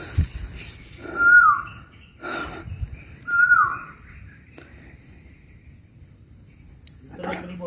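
A bird gives two clear, descending whistled calls a couple of seconds apart, fairly distant, over quiet outdoor ambience with faint brief voices.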